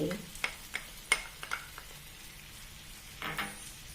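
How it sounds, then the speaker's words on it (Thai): A spoon knocks and scrapes in a pot as tamarind water, sugar and oyster sauce are stirred into a thickening sauce, giving a few quiet irregular taps followed by a brief soft bubbling swish. "เราจะกวน ให้น้ำซอสเนี่ยมีความเหนิดนะคะ"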